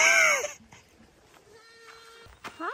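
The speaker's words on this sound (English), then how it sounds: "I can't hang out with the goats all day." A goat bleats loudly and close by at the start, a quavering cry, then a few soft rustles and a faint thin tone before another short bleat-like call near the end, outdoors on a cold day among goats and donkeys.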